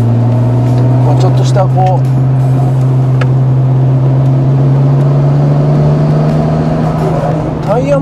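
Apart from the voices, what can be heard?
Nissan Skyline R33 GT-R accelerating 0-100 on highway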